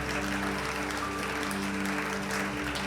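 A church congregation claps together in thanks to God during a Hindi Sunday praise and worship service, a steady wash of hand claps filling the room with a low hum of music or amplification beneath.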